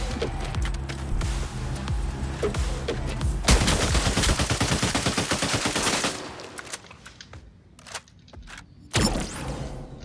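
Video game gunfire during a world boss fight with a sniper build, loud dense bursts of rapid shots in the middle section, then sparser hits and a final sharp burst near the end, no talking.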